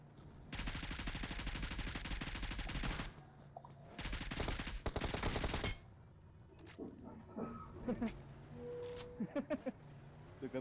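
Automatic gunfire in the battle royale video game PUBG rattles in two long, rapid bursts, followed by scattered single shots and game sounds as a voice talks over the later part.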